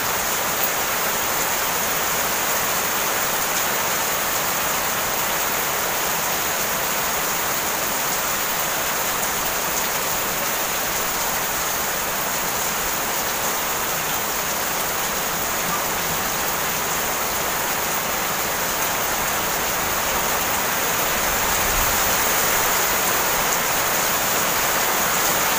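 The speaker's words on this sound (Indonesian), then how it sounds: "Hujan sangat deras lor, berserta angin" Heavy rain with wind, a dense continuous hiss of downpour that stays loud and unchanging throughout, with a brief low thump near the end.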